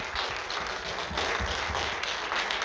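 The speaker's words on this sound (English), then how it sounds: "Give them a round of applause for the wonderful films" An audience at an LGBTQ short film festival screening applauds the films with steady, dense clapping, sustained and even throughout, heard from within the crowd.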